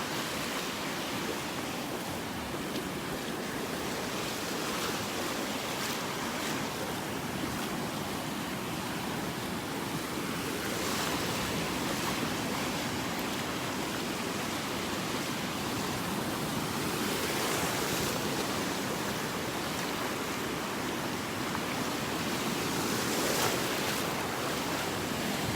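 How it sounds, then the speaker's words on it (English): Small ocean waves break on a beach in North Naples, Florida, giving a continuous wash of surf with gentle swells and some wind rumble across the microphone. "Nice little waves out here,"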